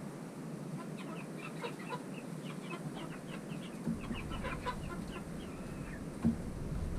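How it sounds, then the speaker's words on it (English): Young adolescent chickens kept indoors cluck and chirp in a steady, busy chatter of short calls, fairly close, with a brief louder bump near the end. "These are our teenage chickens."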